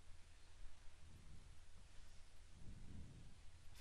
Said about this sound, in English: The rain is falling, and it's the loudest sound in our stadium